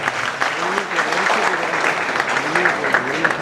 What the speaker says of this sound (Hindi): प्लीज तालियों के साथ स्वागत करें मिस्टर सुनील शाह का।